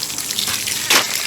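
Water pouring onto black diamond abrasive coal, a cheap black aquarium sand, to rinse it: a steady close splashing gush with a louder, brighter surge near the end.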